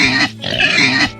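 A pig grunts and oinks in a few rough, closely spaced bursts, loud and near throughout.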